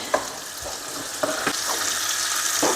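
Sweet peppers frying in a home kitchen pan give a steady, fairly quiet sizzle, broken by a few soft clicks and scrapes of stirring.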